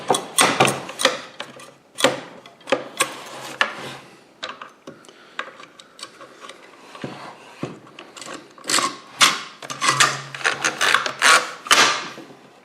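A strip of nails is loaded into a Milwaukee 7200-20 framing nailer, producing a series of close metallic clicks, rattles and sliding scrapes in irregular bursts with short pauses.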